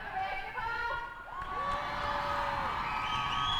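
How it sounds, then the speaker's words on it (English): A large school crowd cheers at a scooter basketball game, with children shouting and whooping in high, overlapping voices that swell and stay loud throughout. "the crowd is ginormous here. Very loud, very ready to see their teachers play."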